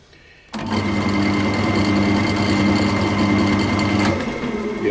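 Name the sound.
wood lathe spinning off-centre bowl on eccentric chuck at low speed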